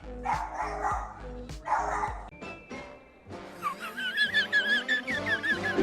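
A dog barks close by in sharp bursts, several barks in a row, then gives higher whining yips with faint room noise in between.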